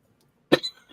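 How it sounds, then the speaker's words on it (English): A single sharp cough from someone with hay fever bursts out close by after a moment of silence, trailing off into a faint breathy rasp. "Coughing."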